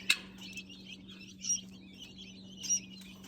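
Tiny quail in a cage level giving soft, faint high chirps, a few brief calls spaced over a few seconds above a steady low hum.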